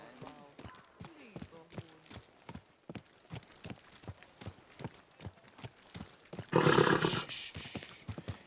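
Horse hooves clip-clop in a quick, steady rhythm in the medieval game Kingdom Come: Deliverance, then a loud whinny bursts out near the end. A voice speaks briefly over the hoofbeats.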